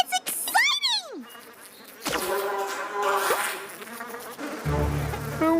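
Bees buzz in an animated pony cartoon, a loud, continuous droning swarm layered under whooshing, swooping cartoon effects and a musical score, with short bursts of other sound effects.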